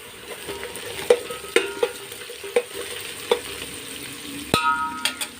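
Mushrooms stirred into golden brown onions in a hot pan, frying for a mushroom biryani: a steady sizzle with repeated sharp scrapes and clinks of a spoon against the pan, close and clear, no talk.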